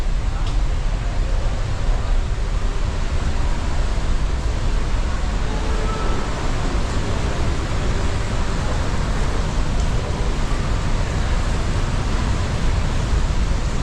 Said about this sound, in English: We can hear the sound of the waterfalls,